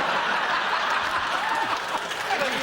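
A studio audience at a TV comedy panel show breaks into loud sustained applause mixed with chuckles and laughter, a dense crowd clatter filling the whole moment.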